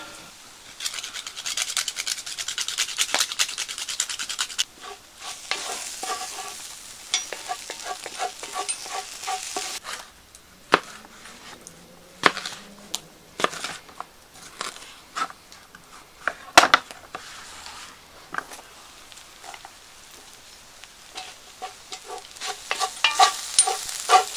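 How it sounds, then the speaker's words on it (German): Soy granules fry and are stirred in a pot over a campfire outdoors: a steady hissing sizzle, broken by repeated scraping and rubbing strokes and clattering knocks, close and continuous. "kann mein Sojagranulat anbraten"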